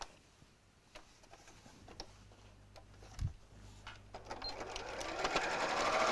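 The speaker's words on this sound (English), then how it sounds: "I'm going to machine sew the turning gap closed" A sewing machine stitches a turning gap closed on a lined fabric bag, starting quietly with a faint knock and building into a loud, steady, close mechanical whir by the end.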